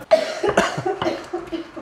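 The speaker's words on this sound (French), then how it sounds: "Il y a du piment dans l'air, tu tousses, je tousse, la caméraman tousse" Several people cough in a kitchen while blending hot chili pepper sauce, with pepper irritating the air: a quick burst of harsh, close coughs, overlapping and repeated within under two seconds, with a hint of laughter.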